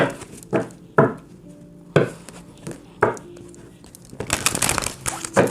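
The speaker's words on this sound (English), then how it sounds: "Let's give it a final shuffle." Oracle cards are shuffled by hand in a series of crisp riffling and slapping bursts, roughly one each second, then building into a longer rapid flutter at the end, close up and without talk.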